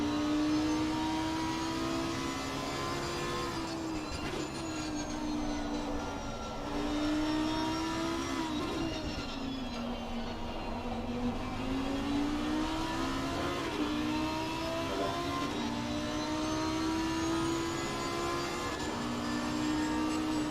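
Race cars in Assetto Corsa Competizione streaming into the pits at the Nurburgring GP, a steady overlapping engine drone with pitch rising and falling as cars pass, continuous and fairly loud throughout.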